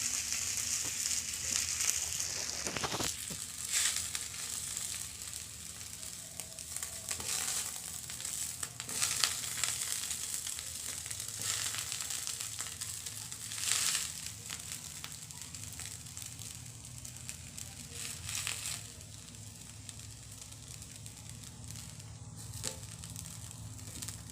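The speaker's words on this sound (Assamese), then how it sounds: "এতিয়া মই ধুনীয়াকৈ অলপমান ৰিফাইন দি পিনি ফ্ৰাই কৰি লওঁ লৈছোঁ আৰু এতিয়া ব্ৰেডকেইখন দি দিম" Bread slices fry in refined oil in a pan for Assamese bread ladu, giving a steady soft sizzle with scattered crackles and occasional stirring scrapes, quiet and continuous with no talking.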